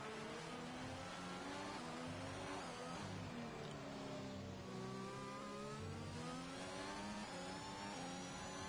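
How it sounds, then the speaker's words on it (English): Race car engines rev continuously in a racing video game, round 16 in Mexico, a dense layered drone of several cars with rising and falling pitch sweeps, loud and steady throughout with no talk. "Fight Me's car is disqualified, but it's still going round"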